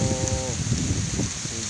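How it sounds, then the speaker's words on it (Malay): Steady rain and gusting wind outdoors on a shrimp fishing trip, a continuous loud hiss and rumble with a voice briefly audible over it. "Hujan, angin."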